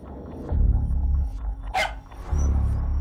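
A dog gives a single sharp bark near the middle, set against a deep rumbling low-end drone before and after.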